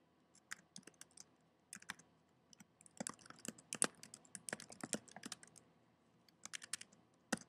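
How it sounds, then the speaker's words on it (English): Someone types on a computer keyboard up close, quick bursts of crisp key clicks in uneven clusters with short pauses, quiet and without speech. "I'm going to type it in before I say it"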